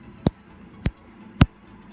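Three sharp snips of a hard plastic pacifier being cut, evenly spaced about half a second apart, close and crisp against a quiet background.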